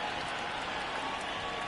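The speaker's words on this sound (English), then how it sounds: "Crowd gets up for the 3-2." A baseball stadium crowd in the MLB The Show 19 video game gives a dense, steady roar of cheering and applause with no break, loud and continuous throughout.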